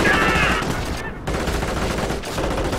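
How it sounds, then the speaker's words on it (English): Gunfire in the Company of Heroes battle game, dense loud bursts of rapid shots and a fusillade with brief gaps, under the dull roar of combat. "We are coming under fire!"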